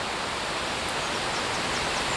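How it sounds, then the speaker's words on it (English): A full waterfall pours in a steady, dense hiss of rushing water, close and even, with no voices. "this waterfall is looking nice and voluptuous this morning"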